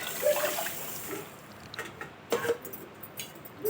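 Water trickles and splashes into a bowl of rinsed mung beans, with small clinks and intermittent pouring sounds, close by and moderately quiet.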